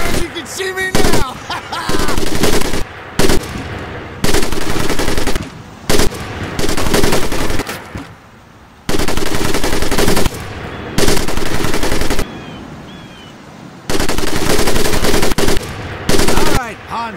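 An M1919A4 .30 caliber machine gun fires in long, loud automatic bursts in the World War II Pacific setting of Medal of Honor: Pacific Assault, with sharp gaps of near silence between bursts.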